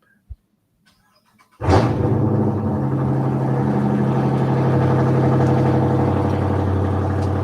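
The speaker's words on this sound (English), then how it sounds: "Somebody's car is starting." After a couple of faint clicks, a car engine cranks and catches with a sudden burst, then settles into a loud, rough, rumbling idle that holds steady nearby.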